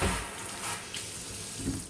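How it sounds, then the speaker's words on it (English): Kitchen faucet gushing into a sink, a steady close hiss of running water with no talk over it. "I don't like this faucet much because you just barely bump that thing and it turns it on."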